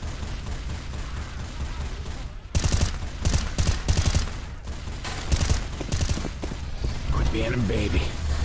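Rapid gunfire from a weapon in Left 4 Dead 2 rings out in a burst of close, sharp shots after a stretch of background game noise, with some talk at the start.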